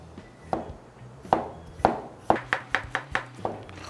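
Knife cutting zucchini into strips on a chopping board: sparse taps at first, then a quickening run of crisp, close chops.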